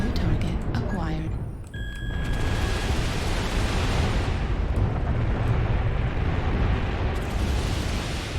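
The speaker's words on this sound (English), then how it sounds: "Warning, incoming missile." Incoming missiles burst as a loud, continuous roar of explosions in the mech combat game Mechwarrior Online, with a synthetic warning voice and electronic tones near the start.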